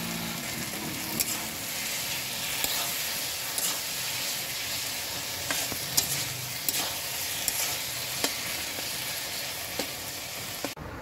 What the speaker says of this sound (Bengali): এবার চিংড়ি মাছ দিয়ে খানিকক্ষণ নেড়ে চেড়ে নামিয়ে দিচ্ছি